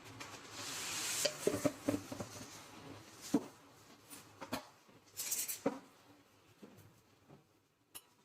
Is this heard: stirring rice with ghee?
yes